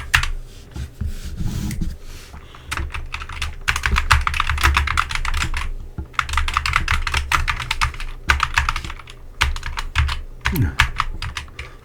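Fingers type on a computer keyboard in rapid bursts of close, crisp key clicks with brief pauses between runs, under faint low background noise.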